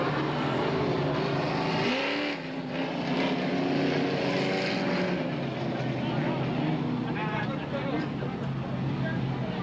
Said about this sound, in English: This 8-lap qualifying event for the late model Super Stocks.